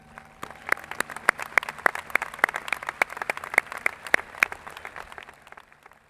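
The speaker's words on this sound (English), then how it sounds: "parents and guests, please join me in applauding these students as well" Guests and parents at the 2022 Shawnee Mission East high school graduation applaud the magna cum laude students. Distinct, fairly close individual claps ring out from a modest crowd, then thin and fade toward the end.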